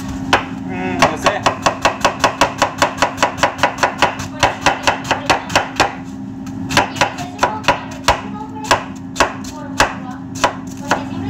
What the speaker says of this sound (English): Just be very careful when you do the cutting of the cabbage, no?